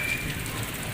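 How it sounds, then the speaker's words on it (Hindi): Rain falls quietly and steadily over a village, a soft continuous hiss with a brief faint tone near the start and no talking. "आज हमारे गांव में बारिश हो रही है"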